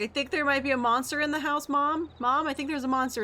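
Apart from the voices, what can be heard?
None of the usual background noises is heard.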